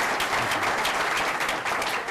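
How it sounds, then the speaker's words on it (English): A conference audience applauds the speakers on a healthcare reform panel, a dense, steady burst of many hands clapping heard from within the room. "But please give them a round of applause."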